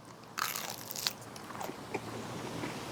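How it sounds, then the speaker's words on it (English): A sharp crunch as someone bites into crispy barbecued chicken skin, followed by a few quieter crackling chews, close to the microphone. "hear that crunch there. So crunchy, so crispy."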